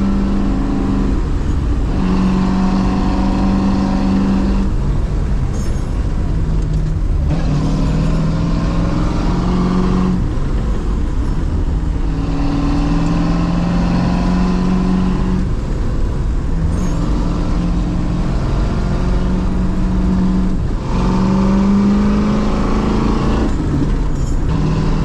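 A V8 car engine drones loudly from inside the cabin while driving on the road, its pitch rising and falling through repeated accelerations and gear changes, steady and close throughout.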